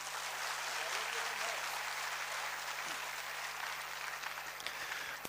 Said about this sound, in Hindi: एक बार जोरदार तालियां इन सभी लोगों के लिए.